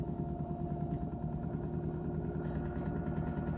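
An off-grid generator turning at 600 RPM hums in a steady, even drone, moderately loud and close, with no voices over it.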